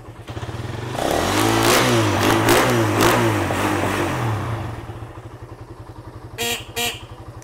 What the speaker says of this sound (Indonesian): Mesin sangat halus.